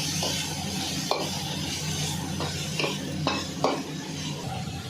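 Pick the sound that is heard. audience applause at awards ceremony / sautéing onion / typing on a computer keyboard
sautéing onion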